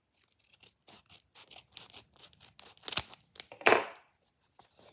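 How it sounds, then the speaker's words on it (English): Scissors cut open a plastic squishy-toy bag, a series of short close snips and crinkles ending in a louder tearing rip. "So let's carefully cut it with these dark blue scissors."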